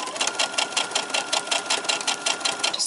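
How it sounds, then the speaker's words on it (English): A sewing machine stitches a quilt fabric seam with a fast, even, rhythmic whirring chatter, close and steady throughout. "I'm just going to stitch along."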